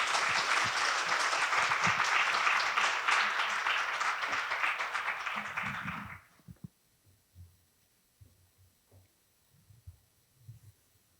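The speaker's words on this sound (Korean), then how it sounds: "큰 박수로 맞이해 주시기 바랍니다" Audience at a Korea University leader lecture series gives sustained loud applause welcoming a former prime minister as lecturer, steady for about six seconds before cutting off to near silence with faint small sounds.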